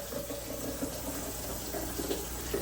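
Filtered water runs steadily from an under-sink filter faucet into a sink, a constant close hiss and splash with faint gurgles and no talking.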